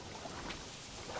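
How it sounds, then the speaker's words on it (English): Rain falls in the King Kong video game, a dense, steady hiss of downpour filling the short stretch with no other distinct sounds. "And it's raining."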